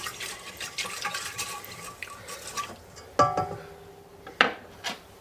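Salt and brown sugar are stirred into a yeast mixture in a bowl, soft liquid swishing and scraping at close range, followed by a few sharper clinks and taps as the spoon strikes the side.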